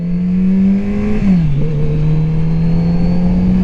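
A 2021 Kawasaki Z900 RS Cafe inline-four engine gives a loud, steady drone at a high idle, dips briefly in pitch, then settles back into a smooth, continuous hum.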